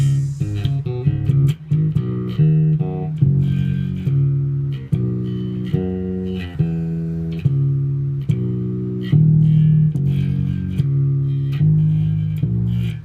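A fretless bass guitar plays a slow melodic line of sustained, sliding notes, each ringing out in turn, solo and close.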